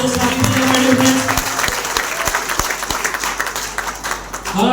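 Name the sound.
applause for Nilesh Nayak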